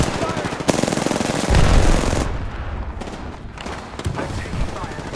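Rapid automatic gunfire bursts in the Apex Legends video game during a squad firefight, loud crackling volleys that rise and fall over several seconds with a heavy boom partway through.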